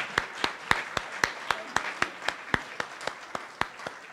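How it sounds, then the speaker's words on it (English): An audience at an awards ceremony claps in a sparse, steady rhythm of about a dozen distinct claps, moderately loud and alone, with no talk over it. "Up next, we have Crystal Perez. Please, let's give her a round of applause."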